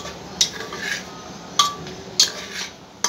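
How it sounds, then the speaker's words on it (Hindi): Onions and garlic are stirred in a cooking pot during home chicken curry preparation: a few sharp spoon-against-metal scrapes and clinks at irregular intervals over a soft sizzling background, with no talking. "पड़ गया है प्याज, और ये दो लहसुन, इसको अच्छे से चलाना है।"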